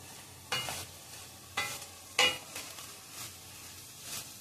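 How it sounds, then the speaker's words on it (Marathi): Mixed leftover vegetables fry in butter for masala bhaji, a soft steady sizzle under three or four distinct scraping stirs of a spoon against the pan. "थोडा वेळ आपल्याला हे बटरमध्ये फ्राय करून घ्यायचे"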